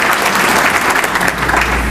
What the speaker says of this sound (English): Let's give our constitutional officers a round of applause.